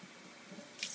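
Tap water runs into a measuring cup in a home kitchen, a soft, steady splashing stream with a brighter hiss near the end as the flow changes.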